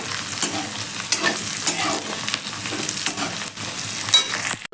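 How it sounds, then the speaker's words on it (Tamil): Onion and drumstick pieces sizzle in hot oil as a spoon stirs them for South Indian sambar rice, a steady close frying hiss broken by scraping strokes, with no talking. "வெங்காயம் கூடவே நம்ம வந்து எண்ணெயிலே முருங்கைக்காவையும் போட்டு வதக்கி விட்டுடலாம்"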